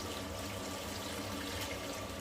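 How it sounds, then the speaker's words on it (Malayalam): Water pours continuously into a cooking pot of beef for biryani, a soft, steady splashing stream heard alone at close range. "6 ഗ്ലാസ് വെള്ളമാണ് ഞാൻ ഇവിടെ ഒഴിച്ചു കൊടുക്കുന്നത്"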